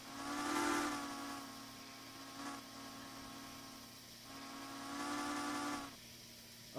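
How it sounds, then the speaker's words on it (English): A steam locomotive whistle in a train simulator mod, sounding in long held blasts with a slight pitch change as the cord is worked, loud over a steady hissing background. "a steam whistle is not normally at the same pitch during the entire time that a whistle is being pulled"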